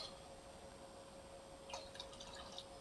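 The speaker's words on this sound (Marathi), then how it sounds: "अजून थोडं मी याच्यामध्ये पाणी घालून घेते" Water is poured into a thin vegetable curry, a faint brief splash and trickle after a quiet stretch, with no voices.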